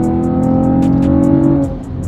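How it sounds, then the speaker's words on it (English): A Chevrolet Camaro engine with a Volant Performance intake roars loudly at full throttle from 40 mph, pitch climbing steadily as it accelerates, then easing off near the end. "We're going 40 miles an hour, and I'm about to floor it"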